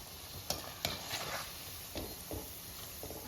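Moong dal snack dough fries in oil with a soft, fading sizzle, broken by several sharp clinks and scrapes as the pieces are turned in the pan.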